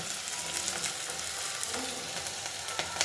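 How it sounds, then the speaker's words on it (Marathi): Chopped vegetables with soaked masoor dal sautéing in a hot pan for gholachi bhaji, a steady dense sizzle and crackle close up, with faint stirring scrapes throughout. "ही मसूरची डाळ ह्याच्यामध्ये टाकायची. चांगली थोडी परतून घ्यायची भाजी."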